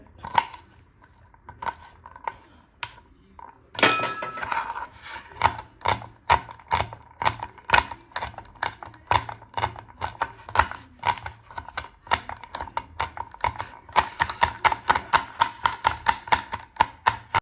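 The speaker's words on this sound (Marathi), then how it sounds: "त्या आपल्याला एकदम बारीक कट करायच्यात." Garlic cloves chopped very finely with a knife on a board for cheese garlic bread, a fast run of sharp, close taps that quickens and grows louder toward the end.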